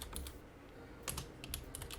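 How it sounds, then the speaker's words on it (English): Keys on a computer keyboard are struck in short, quiet bursts of clicks, a few irregular clusters of taps close by with no voices. "So I'm gonna finish typing."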